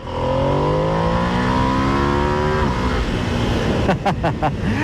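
Ducati Streetfighter V2s engine revving hard as the throttle opens, pitch climbing steadily in a loud close roar, then dropping and breaking into choppy bursts as revs fall; a voice speaks briefly underneath.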